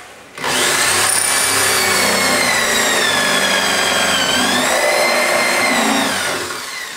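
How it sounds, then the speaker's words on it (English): A power drill with a brad point bit bores into oak, a steady high whine with rising and falling pitch as it cuts, running loud for about six seconds. "So I'm going to drill it"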